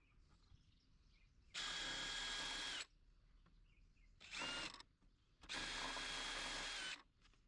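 A power drill whines through three separate bursts into plywood, two long and one short, over a quiet background hiss.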